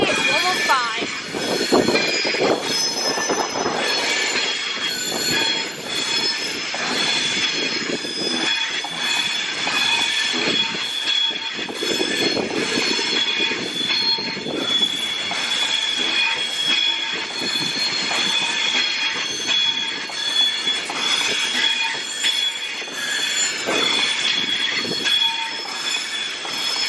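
Class 390 train, unit 390 115, running from London Euston to Edinburgh through Crewe station, rolls past loud and close with continuous wheel squeal, rail rumble and clatter throughout.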